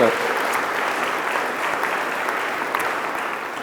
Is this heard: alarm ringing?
no